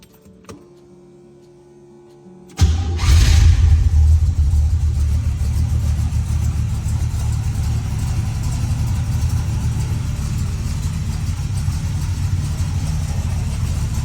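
A 1927 Ford Track T-Roadster hot rod engine fires up after a short quiet spell with a few faint clicks, then booms into a loud, deep, rough rumble that stays steady and close.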